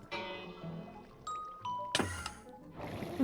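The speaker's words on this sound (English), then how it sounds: "Rings the doorbell" A Minecraft-style doorbell at a custom horn shop chimes in a few bright tones, followed by short clicks and a soft whooshing effect, fairly quiet.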